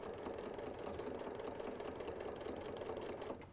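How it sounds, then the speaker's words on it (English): A regular household sewing machine stitches through Velcro with a steady, continuous motor whir and rapid needle patter, running close and alone without pause before easing off at the very end. "your regular needle on your regular sewing machine should be able to sew through the Velcro, no problem"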